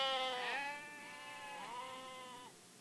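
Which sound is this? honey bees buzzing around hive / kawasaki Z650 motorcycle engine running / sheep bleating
sheep bleating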